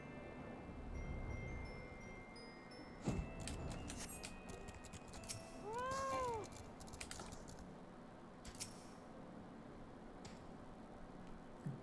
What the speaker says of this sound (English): I love the kitty sound, it's so cute.